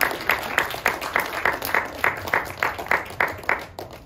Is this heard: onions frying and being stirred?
no